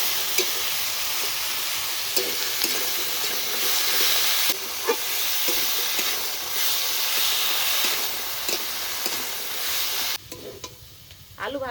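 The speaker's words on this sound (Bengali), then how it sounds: "এবার ভালো করে ভেজে নেব" Potatoes frying in a pan with ginger paste and salt, a steady loud hissing sizzle with stirring scrapes throughout, the sizzle dropping away abruptly near the end.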